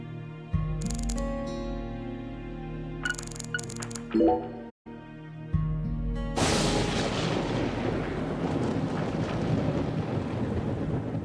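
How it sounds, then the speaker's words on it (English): Thunder in the video game Deadly Premonition 2: tonal music plays, then a loud, broad rumble crashes in and rolls on for several seconds. "Do you hear that thunder?"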